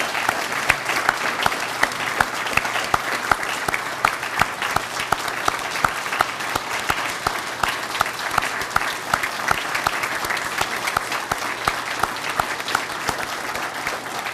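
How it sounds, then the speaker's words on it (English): Audience applause at a Veteran's Day ceremony, honoring student speakers: a steady, dense round of clapping from a sizable crowd, sustained and even throughout without a break. "Let's give our student speakers another big round of applause this morning."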